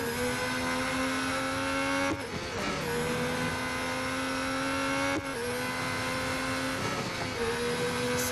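Red Bull Racing Formula 1 car in Real Racing 3 at the Italian Grand Prix, its engine holding a steady high whine that dips briefly as the throttle eases near the exit of Lesmo, then climbs again, loud and continuous with no talk.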